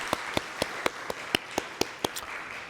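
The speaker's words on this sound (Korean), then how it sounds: "우리 함께 감사하고 격려하는 박수 한번 해주시겠어요" A church congregation claps together in a steady, evenly spaced rhythm of about a dozen sharp claps at a brisk pace, moderately close and with no talking over it.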